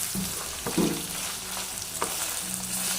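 Chicken neck, liver and gizzard sizzle in a pan as a utensil stirs them, giving a steady close frying hiss broken by a few sharp scrapes and clatters, with no one talking.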